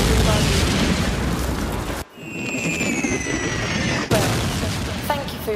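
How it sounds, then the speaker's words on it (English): Artillery bombardment in a World War One battlefield setting: dense, continuous booming explosions and bursts rolling throughout, loud and close, briefly dropping out before the barrage resumes. "Being under bombardment."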